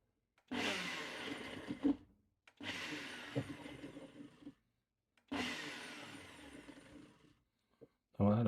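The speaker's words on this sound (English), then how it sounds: "put that in the blender. So just going to pulse it." A kitchen blender pulses chopped onion and jalapeno in three long bursts of a few seconds each, loud whirring chop separated by short silences, a fourth burst starting at the end.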